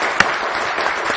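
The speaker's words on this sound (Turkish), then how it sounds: "Bir alkış daha rica ediyorum." Brief burst of studio audience applause on a Turkish word-game quiz show, dense clapping with one sharp accent near the start, lasting about a second.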